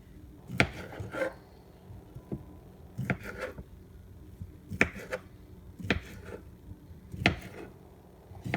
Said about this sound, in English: So let's go ahead and chop the remaining of this up.